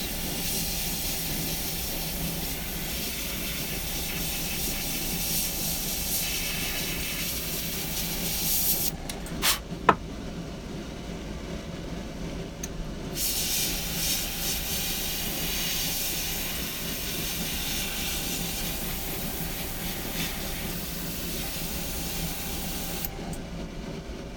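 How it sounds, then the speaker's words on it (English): Airbrush spraying paint over a white base on a wolf head, a steady close hiss running throughout with brief dips and one sharp click near the middle. "Just putting a little bit of airbrush, a little bit of color."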